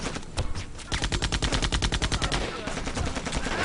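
Mounted machine gun fire in Shellshock 2, a rapid even burst of heavy shots running for several seconds, fairly faint, with only slight talk in the background.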